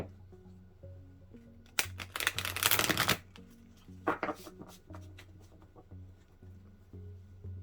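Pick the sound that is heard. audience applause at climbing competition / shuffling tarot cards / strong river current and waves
shuffling tarot cards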